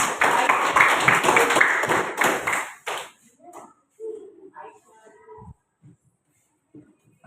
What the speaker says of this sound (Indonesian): Kasih dulu tepuk tangan untuk Aisyah